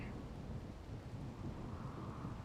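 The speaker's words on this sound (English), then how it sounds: "Stupid rainy thunderstorm." Rain and rolling thunder from a thunderstorm in the video game RimWorld, a quiet, low continuous rumble under a soft wash of rain.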